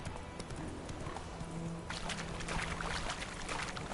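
Hooves clip-clop steadily as a horse gallops in The Witcher video game, a fast, rhythmic pounding under a continuous wash of game noise, growing denser and louder midway through.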